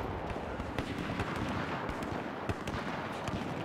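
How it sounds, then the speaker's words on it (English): Mortar rounds burst in a large 32 versus 32 multiplayer shooter match, with rapid overlapping explosions and gunfire forming a dense, distant-sounding barrage of sharp cracks and thumps. "I've seen the mortars fly into the air."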